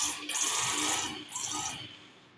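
A Juki sewing machine, just repaired after jamming, stitches fabric in two short, fast whirring runs up close, fading out at the end.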